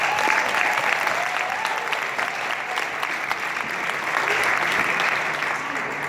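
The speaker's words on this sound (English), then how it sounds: "Give yourselves a round of applause" A crowd of listeners applauds themselves at a Love Girls Magazine speaking event, the clapping loud, dense and steady from start to finish, with a faint voice rising briefly under it.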